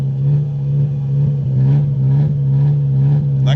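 A tuned BMW M5 V10 with a custom exhaust revs hard, holding a loud, steady engine drone up close, with slight pulsing through the rev and no talking.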